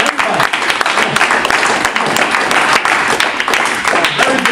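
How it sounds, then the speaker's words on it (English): Audience clapping at a community leadership workshop in Northern Virginia, a loud, busy patter of hands with sharp individual claps, sustained without a break. "Clap it up, clap it up. Everybody clap it up, everybody."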